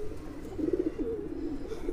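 Soft, low pigeon cooing repeats in a gentle rolling rhythm, close by, over a steady background murmur.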